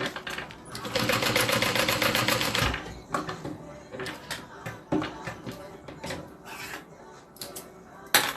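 A domestic sewing machine stitches folded fabric pieces together for a bag pattern, running in a steady, fast, loud burst for about two seconds, then falling into quieter clicks, taps and fabric handling.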